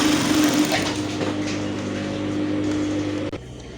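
A sewing machine stitching around an elastic waistband on three-quarter trousers, giving a close, steady mechanical whir that runs without a break and then drops off abruptly near the end.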